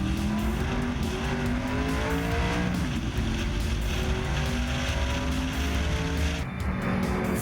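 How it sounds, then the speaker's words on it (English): A heavy Mercury Comet racing car's engine roars steadily at high revs, its pitch rising and falling as it slides through the bends, with faint tire squeal and no voices. "Groenewold sliding his car round the bends as he tries to control that heavy Mercury Comet"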